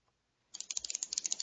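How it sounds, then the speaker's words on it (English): A pen clicked repeatedly at the start of an NBA podcast, a rapid run of crisp, close, fairly loud clicks with no talking over it. "That's me there, clicking my pen because I'm ready to go."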